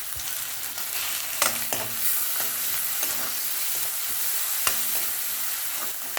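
Onions sautéing to golden brown in a pan for mutton chukka give a steady, close sizzle, broken by scraping stirs of the spatula throughout.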